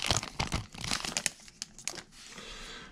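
A Pokémon Burning Shadows booster pack has its foil wrapper torn open: close crinkling and tearing crackles in uneven bursts, fading to a softer rustle near the end.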